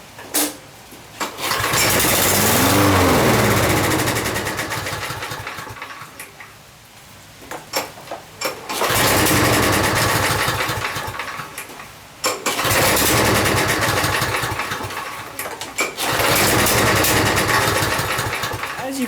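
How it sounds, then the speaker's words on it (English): A primerless automatic-choke Briggs and Stratton lawn mower engine fires up on the rope pull, runs roughly for several seconds and then dies, repeated three times with quiet gaps between attempts. "fix one of these primerless automatic choke Briggs and Stratton lawnmowers that simply starts and dies when you pull the rope"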